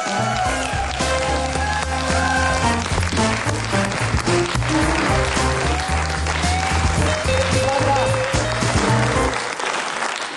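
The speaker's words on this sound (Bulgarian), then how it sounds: "Аплодисменти за Влади Въргала!" Audience applause at a Bulgarian comedy show as a performer is welcomed: dense, continuous clapping under loud music with a steady beat and melodic lines, holding at full level until it cuts off sharply at the end.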